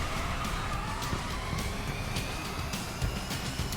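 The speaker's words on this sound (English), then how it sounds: "I love the sound of electric cars" Electric race cars in the Grid Legends racing game give a steady, futuristic motor whine with a faint rising tone, heard at a distance as the vehicles pull off the starting grid, with no voices.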